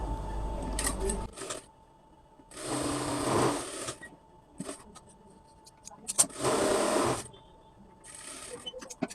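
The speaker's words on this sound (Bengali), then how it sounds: "মিশনে গিয়ে এটা কিভাবে সেলাই করতে হবে সেই প্রসেসটাও আপনাদের আমি দেখিয়ে দেব" Sewing machine stitching a skirt palazzo seam at a waistband joint, with two sustained whirring runs of rapid stitching close up, separated by quieter pauses with light handling clicks.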